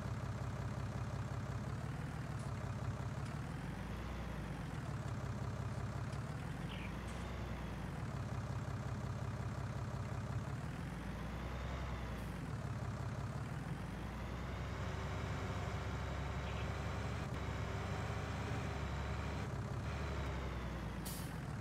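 A truck engine in Farming Simulator 19 drones steadily, its pitch wavering and surging in a repeating pattern, with occasional hissy air-brake-like bursts and no talking.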